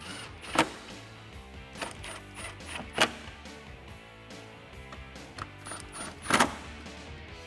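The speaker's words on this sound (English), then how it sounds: "get those factory screws and tighten these back down." Factory screws being tightened by hand into an RTR bumper vent on a 2018-2019 Mustang, quiet ratcheting clicks and plastic creaks with a few sharper taps, close and faint, no talk.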